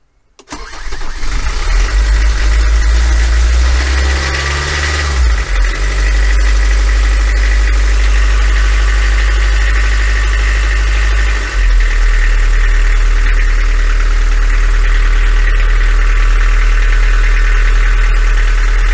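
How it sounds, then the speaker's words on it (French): A truck engine cranks and catches within the first second, then settles into a loud, steady, deep idle that rumbles on unbroken for the rest of the clip, heard close up outdoors. "Bon, le camion démarre"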